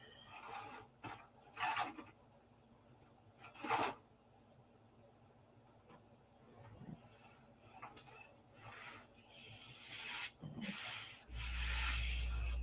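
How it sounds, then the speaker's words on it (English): Sanding a P-47 model airplane by hand: quiet, intermittent rasping strokes come in short irregular bursts, some sharper and louder than others, with faint background noise between them. "Four hours of sanding."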